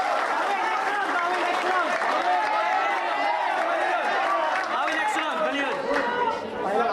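A home crowd at a FlipTop rap battle makes loud, continuous chatter and cheering, a dense roar of many voices that swells and dips slightly throughout.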